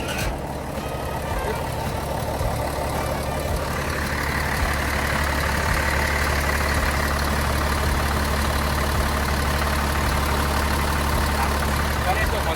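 A heavy diesel engine of a Komatsu WF450T-1 sheepsfoot compactor runs steadily with a deep, continuous rumble, some mechanical clatter on top, and no voices.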